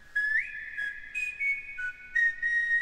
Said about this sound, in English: Everybody's doing whistles now.